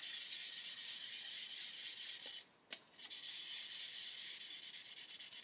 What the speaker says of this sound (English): we're sanding away this inner edge and it's leaving the pen on the outer edge